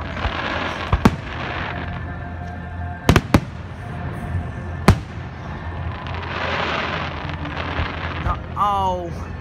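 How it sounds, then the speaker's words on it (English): A 2017 Stanford fireworks show pops and booms continuously, with sharp cracks standing out over a steady crackling wash and a whistling rocket near the end, some distance away. "how many fireworks do they freaking have?"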